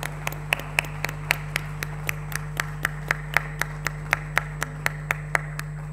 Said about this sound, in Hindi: आइए जोरदार तालियों से स्वागत करते हैं